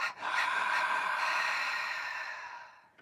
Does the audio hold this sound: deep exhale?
yes